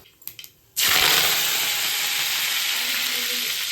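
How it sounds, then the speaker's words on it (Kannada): Mustard seeds and curry leaves hit hot oil in a kadai, bursting into a loud, steady close-up sizzle after a few faint clinks, the frying hiss holding on without pause. "ಸಾಸಿವೆ ಹಾಕ್ಕೊಂಡು ಕರ್ಬೇವಿನ ಸೊಪ್ಪು ಹಾಕ್ಕೊಳ್ಳೋಣ"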